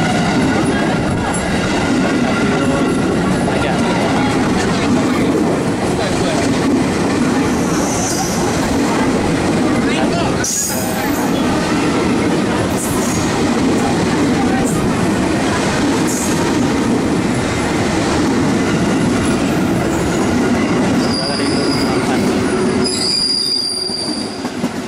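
A KRL commuter train rumbles past close by, steady and loud throughout, with metallic wheel squeals rising above the rolling clatter.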